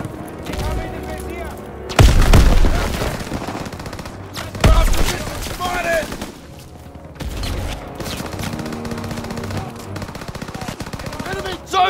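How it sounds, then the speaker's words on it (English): A grenade blast and bursts of rifle and machine-gun fire in the Call of Duty: WWII game, heavy booms at intervals amid rapid gunfire, close and loud, with shouting voices mixed in. "Grenade out!"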